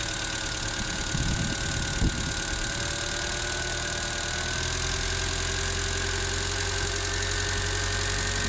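A gas-converted (LPG) car engine idles steadily while its air setting is adjusted, a continuous mid-pitched hum with slight knocking and a shift in tone partway through, close and alone with no voices.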